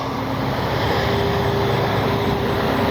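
A steady, loud engine whine with a constant hum from an FMS 80mm electric ducted-fan F-86 model jet flying continuously nearby.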